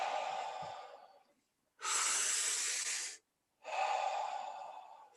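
Deep breathing in a breathwork session: a long breath trails off, then after a pause one strong, even, airy breath and a second one follow, close and alone.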